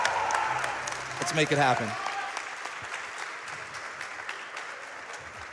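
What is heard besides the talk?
live event crowd applauding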